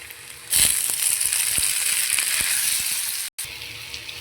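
Chopped tomatoes hit a hot pan of onion, cumin, ginger-garlic paste and curry leaves for egg curry, setting off a sudden loud sizzle that holds steady and close, with a few soft clinks and a brief break near the end.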